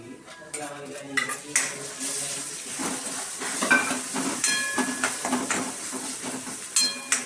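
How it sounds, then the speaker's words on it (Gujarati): Chopped tomatoes tip into a pan of golden-brown frying onions for bhindi masala, with close, repeated clinks and scrapes of a utensil against the pan over a faint sizzle. "ચલો હવે ડુંગળી સરસ ગોલ્ડન બ્રાઉન થઈ ગઈ ને એટલે હવે આપણે એમાં ઝીણા સમારેલા ટમેટા નાખી દઈએ"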